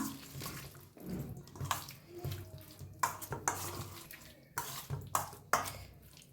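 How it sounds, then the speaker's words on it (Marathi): Paneer roll filling mixed by hand in a bowl, giving soft, wet squelching and rubbing noises in uneven bursts, close and fairly quiet, with no talking. "हाताने बी लावू शकताय तुम्ही, मिक्स होतंय चांगलं हाताने"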